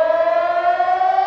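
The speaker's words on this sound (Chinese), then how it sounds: "警报声一响" A civil defense air raid siren wails during a Han Kuang military exercise in Taiwan, one steady loud sustained tone with no talk.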